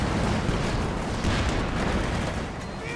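Artillery barrage pounding a World War II battlefield in Company of Heroes 2, a dense, continuous rumble of distant and near shell blasts rolling together at steady loudness with no talk.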